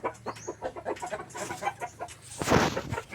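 Hen clucking repeatedly in short bursts at close range, with a louder flurry near the end, set against faint farmyard background noise.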